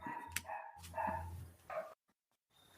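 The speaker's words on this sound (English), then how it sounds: "Which dog is that?" A dog barks several times in quick succession, fairly close and loud, with short yipping bursts before a brief pause.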